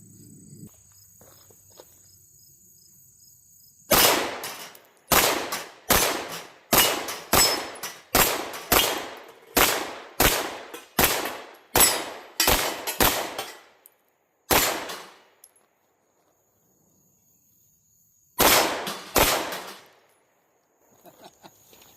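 Shots from a Cyelee Wolf SRS6 PRO pistol with a red dot sight hitting steel targets outdoors: a rapid string of about a dozen loud, close reports with ringing tails, a pause, then two more, over faint insect hum.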